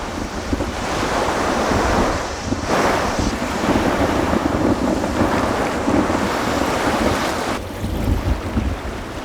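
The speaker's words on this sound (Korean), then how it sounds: "파도가 가두리까지 거세게 몰아칩니다." Rough sea waves surge and crash against a dolphin sea pen in stormy, windy weather, a loud continuous roar of surf with gusting wind buffeting the microphone and no voices.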